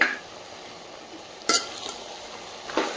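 Sambar made with toor dal and tomato is stirred in a pot, giving a few soft scrapes and clinks of a spoon against the vessel, spaced apart over a quiet background.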